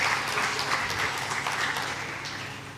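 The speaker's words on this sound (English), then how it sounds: "big applause for Julian" Conference audience at the International Cycling History Conference clapping for a speaker, steady full-room applause lasting a few seconds and easing off slightly at the close.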